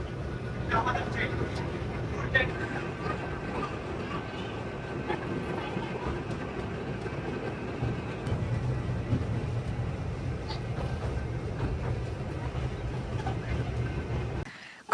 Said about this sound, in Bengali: আর এটা ছোট ট্রেনে যাচ্ছি, ট্রেনে যাচ্ছি